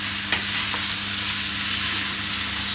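Lamb browning in a pan for a Persian ghormeh sabzi sizzles loudly and steadily, a dense close crackle with a couple of faint stirring knocks and no voices.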